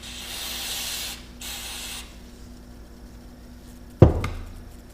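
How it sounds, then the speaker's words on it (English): Brake parts cleaner sprayed from an aerosol can onto a Stihl chainsaw carburetor during a rebuild: two close, steady hissing bursts of about a second each, followed later by a sharp clatter. "Hit it with a little brake parts cleaner again."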